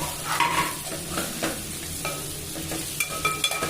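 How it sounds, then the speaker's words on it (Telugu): Ginger-garlic paste and potato pieces frying in a pan: a close, continuous sizzle with stirring scrapes and light clinks against the pan. "మీకు కొంచెంసేపు వేగాక బంగాళదుంప వేసుకోవాలి."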